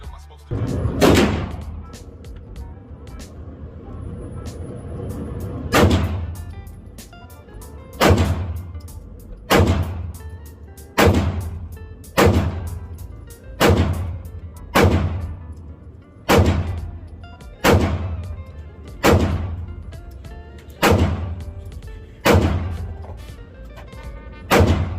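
Gunshots from a Smith & Wesson M&P 2.0 pistol at a gun range, about fourteen sharp, loud reports fired at a steady, unhurried pace, each followed by a short ringing decay.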